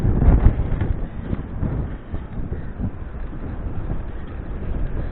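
Strong wind buffets the microphone outdoors during an electric bike ride test, giving a continuous low rumbling roar with heavier gusts near the start and no clear voices.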